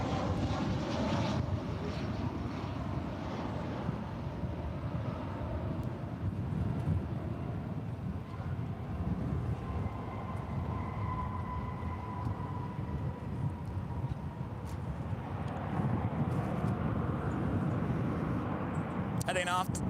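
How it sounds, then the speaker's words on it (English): An American Airlines Airbus A319 taxis toward its departure runway at Dallas/Fort Worth airport, its steady engine hum and rumble continuous and fairly loud throughout, with wind buffeting the microphone and a voice talking over it. "American Airlines Flight 2128, A319, making our way over to 18 left."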